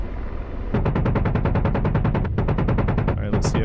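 Rapid automatic gunfire from shooting in a VR video game rattles in a fast, even burst of loud, close shots, with a brief gap near the end before the firing resumes.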